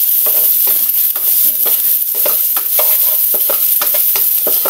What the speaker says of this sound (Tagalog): Ilalagay ko na yung ating sabay na bawang sibuyas.